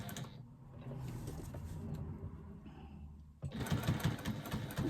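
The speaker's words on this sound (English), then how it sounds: "we're going to stitch around the outside edge of our pocket" A sewing machine stitches steadily around the outside edge of a fabric pocket after a short back stitch, its motor hum continuous and close, growing louder and busier toward the end.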